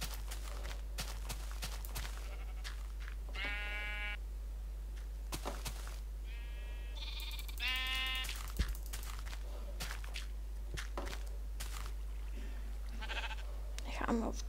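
Sheep bleating outdoors on open flat land, several drawn-out bleats from more than one animal at close to middle distance, with soft footsteps, rustling and a steady low hum underneath.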